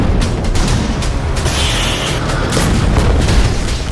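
Artillery cannon fire blasting cross-border launch pads during a military operation: loud, continuous, dense rumbling booms and crackling bursts with no pauses, and no voices.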